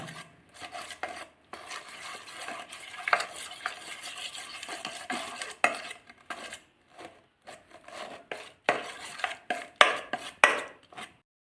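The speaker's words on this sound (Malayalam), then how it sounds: "നമ്മളിവിടെ നല്ലതായിട്ട് കളക്കിയെടുക്കുകയാണ്" Gram flour batter mixed with water for boondi is stirred in a bowl, giving a close, steady run of wet scraping and sloshing strokes in irregular bursts, with no talk.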